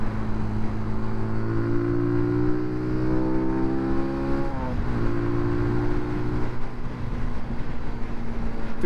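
A Benelli Leoncino motorcycle engine drones steadily while riding, its pitch climbing through a gear, dipping at a shift, then pulling on, with constant wind and road noise.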